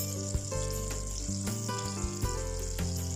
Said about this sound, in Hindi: बटर को मेल्ट होने देंगे। जैसे ही बटर मेल्ट होगा